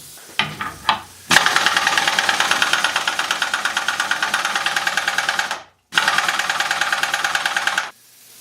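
A Shars pneumatic impact wrench hammers loudly and close in a rapid, steady rattle, running in two long bursts separated by a brief pause, with short taps at the start.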